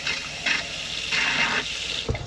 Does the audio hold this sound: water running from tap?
yes